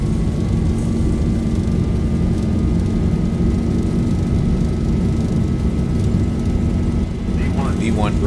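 Boeing 737 engines roar steadily at takeoff thrust during the takeoff roll, a loud, continuous broadband rumble with a faint whine on top, heard from inside, with speech briefly under it.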